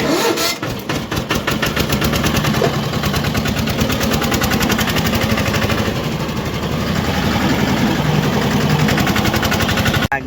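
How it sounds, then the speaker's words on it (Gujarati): A tractor engine runs up close, loud and steady, with a rapid pulsing diesel chug throughout the whole stretch and a brief cut at the very end. "ચાલો ભાઈ હવે જાય ટ્રેક્ટર લઈતા જાય ટોલી જોડવાની છે"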